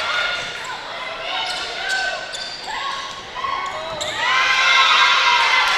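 Crowd noise at a women's volleyball match against Kalamazoo Valley, with cheering and shouts rising in bursts and swelling louder near the end, a ball striking in the gym, and announcers talking over it.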